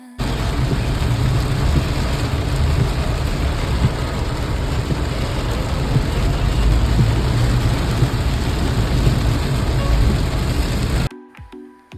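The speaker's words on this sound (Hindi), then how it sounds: "घर लौटते लौटते अचानक से शुरू हो गई बारिश और इतनी ज़ोरों की बारिश हो रही थी" Heavy rain pours down steadily in a dense, loud broadband roar with a low rumbling undertone, continuing without a break for about eleven seconds before cutting off abruptly.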